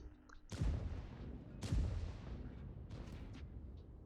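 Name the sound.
tank gun firing in World of Tanks video game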